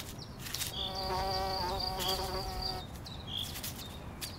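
Insects buzzing around viper's bugloss flowers on reclaimed industrial ground, a steady close drone with a higher whine passing by, fading briefly before the buzzing returns.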